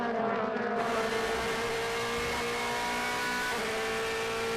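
A DTM touring race car at Hockenheim in 2014, heard from on board as it shifts down through the gearbox under heavy braking. The engine note is loud and steady, and the pitch steps down with each shift. No one speaks.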